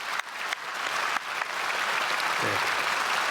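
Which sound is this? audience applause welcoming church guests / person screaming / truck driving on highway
audience applause welcoming church guests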